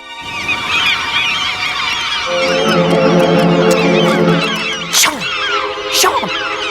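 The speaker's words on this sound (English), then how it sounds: "We're being held to ransom by a bunch of seagulls." A flock of seagulls calls loudly and continuously, raucous overlapping squawks and honk-like cries filling the scene, with a couple of sharp swooping calls near the end.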